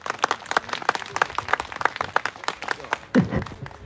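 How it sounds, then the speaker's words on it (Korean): Applause from a crowd at a memorial ceremony for a labor activist, a steady rush of many hands clapping close by, with a brief louder burst near the end. "큰 박수와 함성으로 맞아주십시오."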